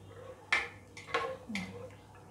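A spoon knocks and scrapes against a cooking pot while chickpeas with salt and turmeric are stirred, three or four distinct clinks spaced about half a second apart, fairly quiet and close.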